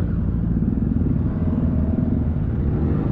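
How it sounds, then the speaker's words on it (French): Large motorcycle engines riding behind a Zontes 125 scrambler on a group ride, heard as a steady, loud, continuous rumble with no voices. "Il y a des gros moteurs derrière."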